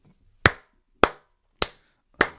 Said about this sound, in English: There's me clapping.